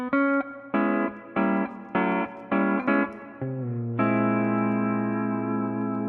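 An electric guitar with effects plays a lick of five choppy, repeated chord stabs, then settles into a long sustained chord ringing out, close and clear.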